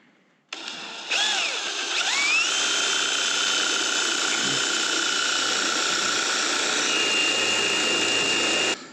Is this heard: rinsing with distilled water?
no